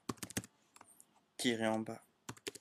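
Quick bursts of clicky keystrokes on a computer keyboard, close and fairly quiet, broken by a short spoken phrase in the middle before the typing resumes.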